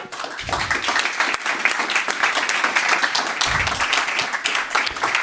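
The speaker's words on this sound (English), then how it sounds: "Please give them a warm round of applause." Sustained applause from a conference talk audience, dense and even, with clapping continuing throughout.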